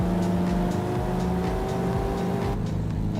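A car engine in a driving game holds high revs near the red line, a steady strained whine with rhythmic pulsing, loud and close, then easing slightly toward the end.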